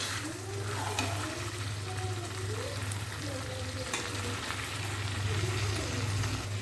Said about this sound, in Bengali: আর এই যে মাংসটা গরম হচ্ছে সকালে ভাত দিয়ে খাওয়ার জন্যে